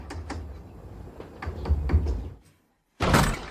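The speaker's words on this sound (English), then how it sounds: "I've been knocking forever, no answer." Knocking on a door: a series of dull, irregular raps and thumps that build in loudness, break off into a short silence, then return as one heavier burst of banging.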